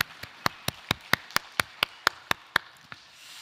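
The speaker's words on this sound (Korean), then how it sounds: "영광의 박수 올려드리겠습니다" Evenly spaced sharp claps, about a dozen in steady rhythm, ring out close and clear with a short reverberant tail, like a single pair of hands leading applause during a Sunday church service.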